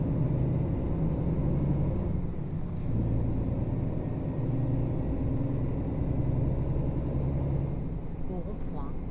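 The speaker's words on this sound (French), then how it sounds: "Je suis vraiment très content de conduire ce Scania." A Scania truck drives in Euro Truck Simulator 2, its engine a steady low drone that stays loud from start to finish, with brief hisses and clicks, and a voice talking over it.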